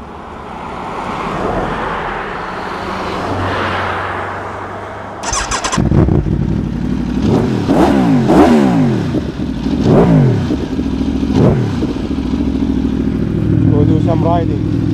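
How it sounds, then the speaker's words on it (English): An Aprilia Tuono V4 1100 Factory engine starts after a quiet hum, then revs through its stock exhaust repeatedly in sharp rising and falling bursts, loud and close, with a deep idle between revs. "The sound from that standard exhaust is incredible."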